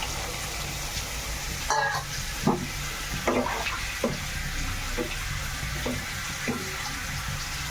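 Water pours and splashes into a pan of Odia coconut egg curry cooking with tomatoes, a steady wash of liquid with a few clinks of utensil against the pan, with no talking.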